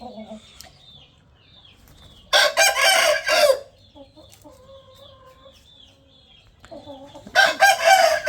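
Roosters crowing loudly nearby in two long bursts, separated by soft clucking and quieter fowl calls, with no talk over them.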